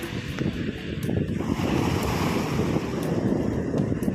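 Steady wind buffets the microphone while sea waves wash and roll continuously in the background by a pier in Sudak, Crimea, loud and unbroken throughout.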